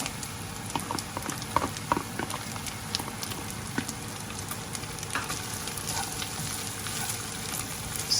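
Chopped onion sizzles in a pan with strips of already fried bacon, a steady close crackle with scattered pops and no talking.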